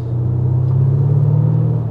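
Audi A6 3.0 TDI Competition diesel engine running in dynamic mode, a deep, steady low rumble heard from inside the car, loud and constant with no talking.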